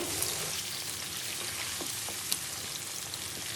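Garlic, ginger and salt sizzle steadily in a hot pan for a rogan-style roast, a dense continuous frying hiss with a few soft scrapes of stirring and one sharp tap near the end, no voices.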